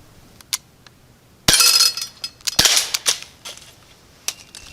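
An Umarex Beretta air pistol fires at a can outdoors: a few light clicks, then one sharp loud crack, a second report about a second later and scattered metallic clinks and taps afterward, with no talking.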